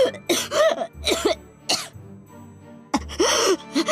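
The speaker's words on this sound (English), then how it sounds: "Coughing" A woman coughs in several harsh, raspy bursts with short gasping pauses between them, close and loud, in Umineko: When They Cry.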